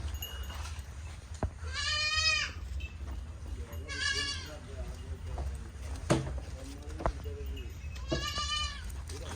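Goats bleat repeatedly at a goat market, three loud wavering calls spaced a few seconds apart, over a busy outdoor murmur of people talking in the background.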